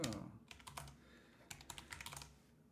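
Keys tapped on a new computer keyboard in short irregular bursts, quiet and close, with a soft hum underneath and pauses between flurries.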